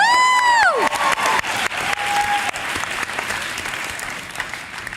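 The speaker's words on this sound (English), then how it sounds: "Yes, I'll take a round of applause." A girls' empowerment event audience bursts into applause and cheering, with a high whoop at the start over dense, loud clapping that carries on steadily.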